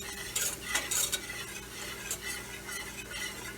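A flour and oil roux for sausage gravy is stirred in a pan, with several scraping, clinking strokes of a utensil over a low sizzle, close and with no talking.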